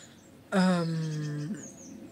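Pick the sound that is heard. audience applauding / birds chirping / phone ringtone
birds chirping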